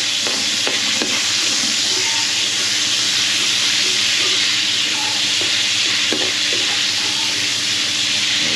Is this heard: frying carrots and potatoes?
yes